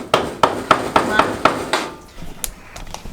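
Rhythmic strokes of a saw working in a courtyard, six evenly spaced rasping pulses close by, then fading into quieter scattered knocks.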